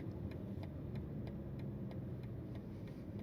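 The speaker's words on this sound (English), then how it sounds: "And now, what about the turn signal sound? What do we get from the M4 CS?" Turn signal of a 2025 BMW M4 CS ticking in a steady, even rhythm of about three clicks per second, heard from inside the cabin over a low engine rumble.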